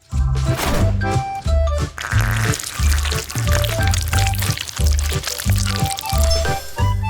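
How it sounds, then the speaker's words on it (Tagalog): Honey poured onto a cake in a kitchen cooking challenge, heard as thick wet squishing and dripping with a rhythmic thumping beat behind it, loud and close throughout. "Ibubuhos ko ito sa cake."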